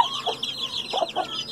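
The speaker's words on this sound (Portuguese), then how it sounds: "Essas duas galinhas aí tava botando terror no galinheiro." Hens give short, soft clucks in a few quick bursts, close by in a rural coop, over a faint high chatter of other birds.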